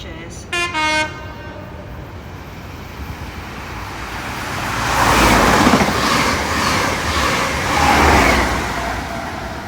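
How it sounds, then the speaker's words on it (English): A fast train led by power car 43189, with 43010 at the rear, runs through Marsh Barton station without stopping. Two short horn toots come first, then a rising, roaring rush as it passes close by. "The fast train now approaching platform 2. It's coming through now. Does not stop here."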